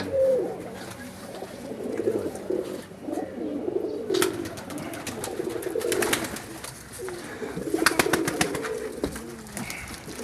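Flying pigeons coo softly in a loft area, low repeated cooing from several birds, with brief bursts of wing flapping cutting in and out over a steady murmur of outdoor background noise.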